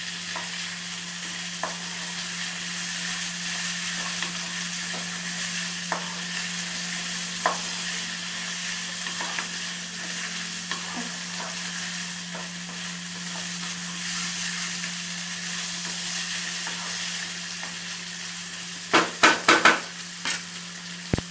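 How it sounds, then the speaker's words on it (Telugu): Boiled country chicken pieces stirred and fried with onion paste in an Andhra-style pan fry give a steady, close sizzle with soft stirring scrapes, ending in a few sharp metallic clanks of the spoon against the pan. "మనం ఉడికించి పెట్టుకున్నటువంటి చికెన్ పీసెస్ని వేయాలి. వేసి మొత్తం అంతా తిప్పాలి."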